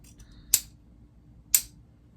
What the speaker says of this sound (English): any pair of scissors will do for this.